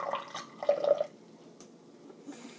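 Clear water is poured in a quiet room, making a faint trickle and a few soft splashing drips that fade into near silence.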